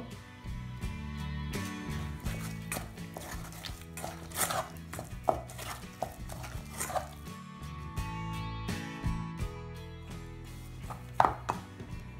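Egg being mixed into warm cream puff choux dough in a pan, with a steady run of soft, wet scraping and tapping strokes continuing close by throughout, no voices.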